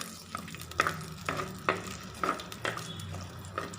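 Whole shallots sizzling in hot coconut oil for a Kerala okra curry, a steady low frying hiss broken by repeated clacks of a spoon stirring against the pan, close and fairly quiet.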